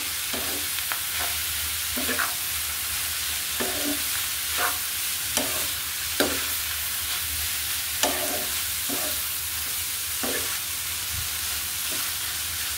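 Wai Wai noodles being stirred in a frying pan, with irregular scraping strokes of the utensil against the pan over a constant low sizzle, close and fairly loud, with no talking.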